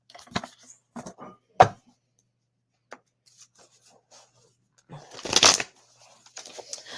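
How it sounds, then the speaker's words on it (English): Playing cards shuffled in several short riffling bursts, close and fairly quiet, with pauses between and a louder, longer shuffle near the end; no talking. "Let's pull some cards for this."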